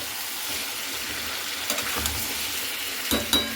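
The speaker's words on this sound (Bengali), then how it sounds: "দেখে বুঝতেই পারছেন আমি খুব ভালো করে কিন্তু নাড়াচাড়া করছি" Mutton with onions and potato being stirred in a frying pan as the liquid cooks down, a steady sizzle with scraping and clattering spatula strokes growing busier toward the end.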